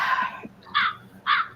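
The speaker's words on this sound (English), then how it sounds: "A crow, damn." A crow gives three harsh caws: a longer first call, then two shorter ones spaced about half a second apart. The calls are fairly loud over faint background noise.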